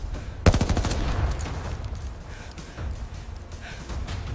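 Suppressive gunfire erupts in a close, loud burst of rapid shots, followed by a sustained rumbling, noisy wash of further firing and echo, with no clear talk.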